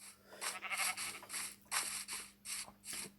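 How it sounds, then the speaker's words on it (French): Sheep in a video game bleat in a run of short repeated calls, about eight quick bleats in steady succession. They sound clear but fairly quiet, with no talking over them. "Moutons, il y en a beaucoup."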